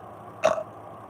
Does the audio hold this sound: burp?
yes